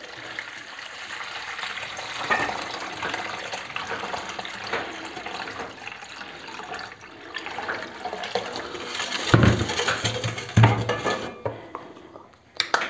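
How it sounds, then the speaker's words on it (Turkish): Water pours into a pot in a kitchen while a Turkish pudding is made, a soft continuous trickle mixed with faint clinks of utensils and dishes, ending in a short louder splash. "Suyumuzu ilave ediyoruz."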